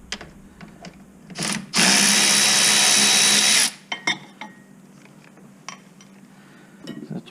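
A power tool whirs steadily for about two seconds while loosening a brake caliper bolt on a Corvette C5, loud and close, with metallic clinks and ratcheting clicks from the tool before and after.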